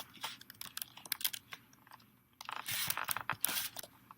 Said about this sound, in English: And I'm using my keyboard as well.